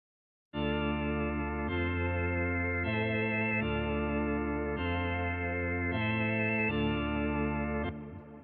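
Music beat produced in Maschine, processed with its internal lo-fi effect and Metaverb reverb, playing steadily and loud with sustained layered chords and a chorused, gritty texture, alone with no talk, fading near the end.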